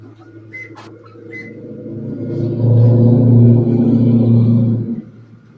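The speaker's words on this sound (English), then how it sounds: "tell your neighbor his muffler on his truck is too loud" A truck with a loud muffler drives past, its low exhaust rumble swelling to a peak and then cutting away over a few seconds, with brief whistle-like tones at the start.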